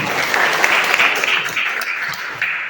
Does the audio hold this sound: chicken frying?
no